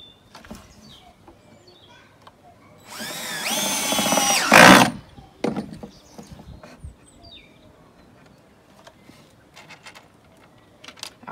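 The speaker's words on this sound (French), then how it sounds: "Donc j'ai commencé à visser ce côté. Et on va visser." A power drill drives a screw into a wooden pallet bench in one rising whine of about two seconds that ends in a loud burst. Scattered tool knocks and faint birdsong surround it.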